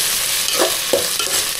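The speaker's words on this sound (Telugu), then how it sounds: "కట్ చేసుకున్న 2 టమాటో పీసెస్ వేస్తున్నాను" Chopped tomato pieces drop into a sizzling pan in a home kitchen, giving a loud, continuous fry with a few soft thuds and stirring sounds.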